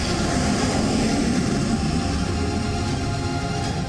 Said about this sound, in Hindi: इसके ठीक बाद फ्लाई पास्ट करते नजर आए 4 रफाल लड़ाकू विमान